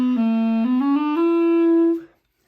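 A clarinet played with a soft, squishy bottom lip damping the reed, giving an airy, fuzzy tone; a short rising run of sustained notes, close and steady, ending on a held note that cuts off cleanly.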